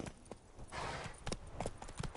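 In The Witcher 3, a horse's hooves beat out a quick, rhythmic clip-clop on the ground, close and fairly quiet, with a brief rush of noise partway through.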